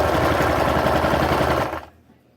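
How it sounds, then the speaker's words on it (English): A sewing machine runs fast and close, stitching down a fabric edge on baby leggings in a loud rapid whirring run, then stops abruptly near the end. "Now I'm just going to sew down this edge."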